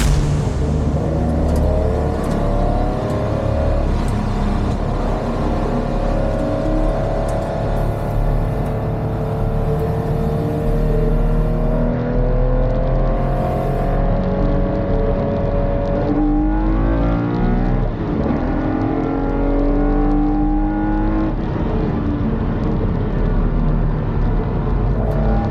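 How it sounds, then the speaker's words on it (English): Bernie's V8 race cars and a Porsche 911 rumble on the track at Speedfest 2024 as they grid up, with several engines droning and revving continuously, pitch swelling and sweeping as cars move past at close to middle distance, with no talking. "the cars are finally on the track,"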